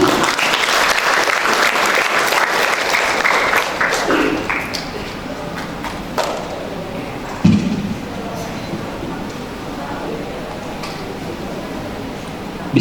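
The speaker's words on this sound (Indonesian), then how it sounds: "Kita jemput dengan tepuk tangan yang meriah Bapak Ibu." Audience applause fills a school swearing-in and inauguration ceremony hall, loud sustained clapping for several seconds that gradually thins out into scattered claps and quiet murmurs.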